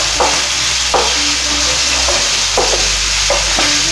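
Sliced onions sautéing in a pan, a dense constant sizzle close up with occasional soft clicks of stirring, no voices.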